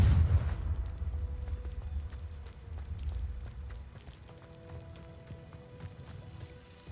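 A fiery blast spell explodes in Hogwarts Legacy, a loud low boom at the very start that rumbles and decays over several seconds, with faint crackling and sparkling tones trailing off.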